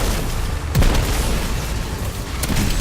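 A grenade detonates in Destiny 2 as a single dull boom amid steady game noise, with a fainter thump near the end.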